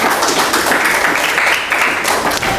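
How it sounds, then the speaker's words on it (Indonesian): A classroom of students claps for a presenting group, giving a thick, continuous patter of many hands at close range, unbroken and fairly loud throughout. "Sekali lagi beri tepuk tangan untuk kelompok 1."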